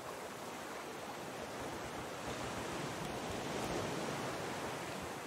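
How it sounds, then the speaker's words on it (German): Broad, steady roar of ocean waves crashing around a raft in the survival game Raft, a continuous wash of surf noise that swells slightly midway, fairly quiet and with no voices. "Alter, wie die Wellen hier schlagen."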